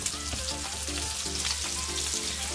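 Strips of bacon sizzle and crackle steadily in a hot pan while being cooked for chicken alambre, a dense continuous frying hiss close by with no voices.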